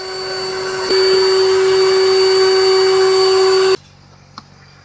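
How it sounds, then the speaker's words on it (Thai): A shop vacuum sucks leaf debris out of a 2012 Chevrolet Cruze during an air-conditioning evaporator repair, a loud steady whine that jumps in pitch, then cuts off abruptly, leaving a faint knock. "จัดการดูดเศษใบไม้นะครับ"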